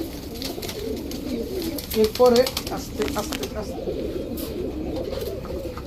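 Male racing pigeon cooing in soft low bursts, with one louder coo near the middle, under someone talking throughout.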